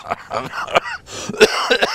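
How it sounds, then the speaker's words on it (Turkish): A man in a studio interview coughs and clears his throat in several close, loud bursts after laughing, with short gaps between them. "güldünüz ve öksürüğümü tetikledi"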